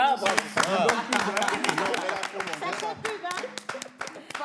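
Scattered, uneven audience clapping at a French talk show, sharp claps popping through under continuous conversation.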